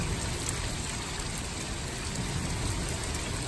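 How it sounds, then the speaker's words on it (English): Heavy rain pouring down in a backyard during a stormy spell with tornado warnings, a dense, even hiss of drops that stays loud and unbroken throughout. "My backyard with all the rain."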